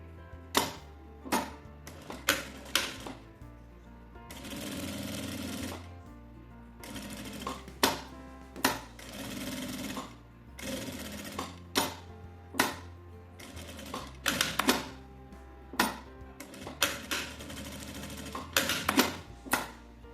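Sewing machine stitching all the way around a fabric phone wallet pocket, with bursts of rapid mechanical chatter broken by short pauses and sharp clicks as the fabric is repositioned.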